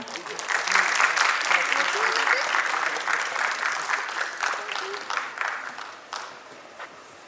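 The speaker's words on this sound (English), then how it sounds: "please give a huge round of applause to Ma'am Pallabi Hazarika" An audience at the Shristi Talks 2024 event applauds a speaker on stage. The clapping is loud and dense, holds steady for several seconds, then slowly thins and fades toward the end.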